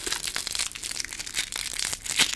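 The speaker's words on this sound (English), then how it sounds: "Crinkly paper." Crinkly paper crumpled close up in quick, irregular bursts of crackling and rustling, alone with no talk.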